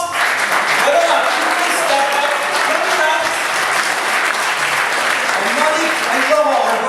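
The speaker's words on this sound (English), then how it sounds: "Let's give Mark a big round of applause." A theatre audience at a magic stage show gives steady, dense applause as a spectator is called up on stage. The clapping is loud and close and holds at an even level for about seven seconds.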